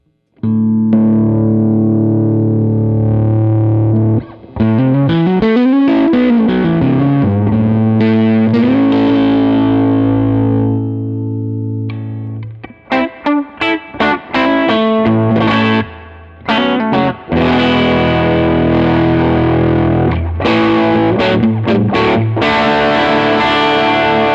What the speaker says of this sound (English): So that's overdriving the tube in the front end.